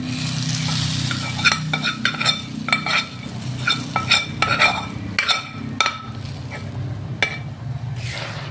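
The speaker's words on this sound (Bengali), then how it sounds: "এখন আমি ডালের মধ্যে দিয়ে দিব।" Fried garlic tempering is stirred into a pot of lentil dal, with a steady loud sizzle and frequent spoon scrapes and clinks against the pot, close and continuous.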